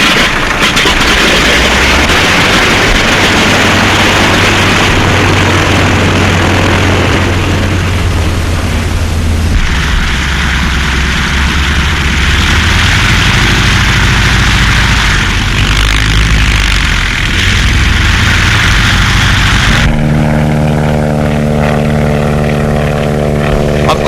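A 1931 propeller airplane engine starts up and runs, producing a loud, rough roar that settles into a steady, droning hum near the end.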